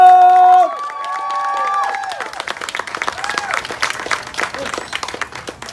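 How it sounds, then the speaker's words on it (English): A crowd at a 2019 Columbus Zoo event breaks into loud, sustained applause with scattered cheers, following a brief spoken line, and the dense clapping continues steadily to the end. "So we have another round of applause for Mr. Tony Bancroft."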